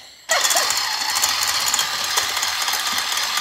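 A food processor switched to turbo while making carrot cake batter kicks on suddenly and then roars loudly and steadily with a grinding, rattling churn, running alone without talk.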